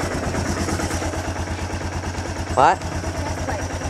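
A 1998 Kawasaki Bayou 300 2WD ATV idles after a cold start with a steady, close, chugging low rumble, and a short spoken word cuts in briefly partway through.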